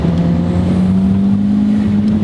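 A turbocharged VW Jetta 2.0 turbo drives along while its turbo spools, a loud, steady engine drone with a sustained tone that climbs slowly in pitch, heard close from inside the car with no talking.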